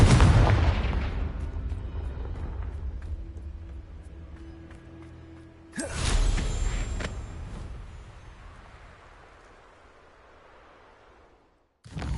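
Confringo fire spells in the Hogwarts Legacy video game: a loud, close explosion with a long rumbling decay, then a second sharp blast about six seconds later that fades into a low roar.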